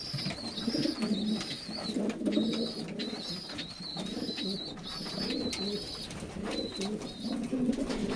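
Staropolskie pigeons coo steadily inside a loft, soft repeated calls overlapping in a continuous, moderately close murmur with a few brighter chirps mixed in.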